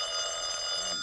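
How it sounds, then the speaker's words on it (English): Telephone ringing during an old radio comedy show, a bright electric bell trill with a steady high metallic ring lasting the whole short moment, close and alone. "Answer the phone, Mary."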